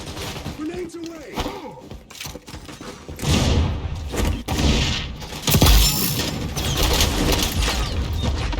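Video game grenades bursting in a firefight, several heavy thumping blasts and crackling debris rolling through the middle and end, mixed with shots and a voice talking over the action.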